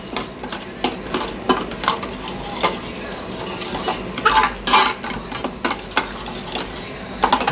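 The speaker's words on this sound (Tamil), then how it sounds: "உப்பு கரையிற வரையும் கொஞ்சம் நல்லா கிண்டுங்க." A spoon stirs salt into boiling water in a pot for mandi rice, with repeated scraping and knocking strokes against the metal in an uneven rhythm, close and moderately loud over a low bubbling background.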